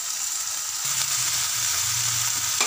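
Balloon vine leaves are sautéed in a hot pan, giving a loud, dense, continuous sizzle and hiss heard up close, with a faint low hum and a small knock at the end, and no speech.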